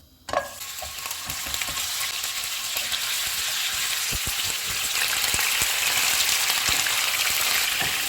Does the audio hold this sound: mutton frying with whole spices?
yes